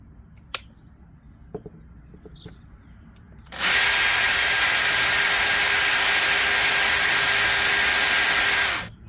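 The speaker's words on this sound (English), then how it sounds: "That's why it's on drill, on screwdriver." A power drill in screwdriver mode starts up after a few faint clicks and runs at steady high speed for about five seconds, loud and close, driving a screw, then stops.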